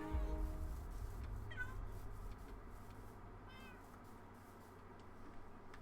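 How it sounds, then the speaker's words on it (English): In the video game Township Tales, cats meow a couple of times, short high mews over a low steady background hum, moderately close and fairly quiet. "But I hear the cats meowing as if they're right here."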